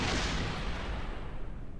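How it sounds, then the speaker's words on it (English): A large rocket explosion in Kerbal Space Program, a broad, rumbling boom that starts strong and slowly fades into a dull roar over about two seconds, with no voices. "here comes a really big explosion"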